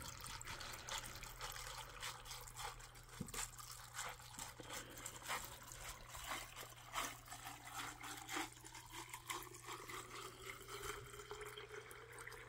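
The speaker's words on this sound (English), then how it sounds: "let's go ahead and fill this up with water" Water pours steadily into an insulated one-gallon jug packed with ice, a soft continuous trickle and splash that rises slightly in pitch as the jug fills, heard faintly over a low electrical hum.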